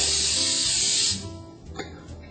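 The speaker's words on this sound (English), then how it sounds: "I'm going to spray it lightly with some pan spray, olive oil pan spray" A steady olive oil cooking spray hisses onto a pan for about a second, then cuts off, leaving quiet kitchen clatter and a faint tap.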